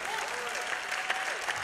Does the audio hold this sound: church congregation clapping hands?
yes